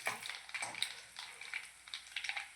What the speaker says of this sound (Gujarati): હવે થોડી વાર હલાવો.